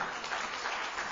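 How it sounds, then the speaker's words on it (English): Congregation giving a hand clap of praise during a church sermon, a steady wash of many hands clapping at moderate distance for about a second, fairly quiet. "Let's give the Lord a hand clap of praise."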